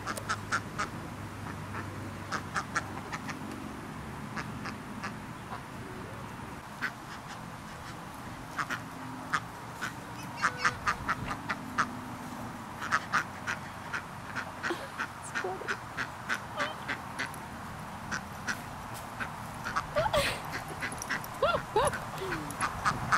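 Ducks and chicks heard near a pit bull dog outdoors, with scattered quacks and chirps over a steady noisy background, and sharp clicks and brief calls spread through the stretch.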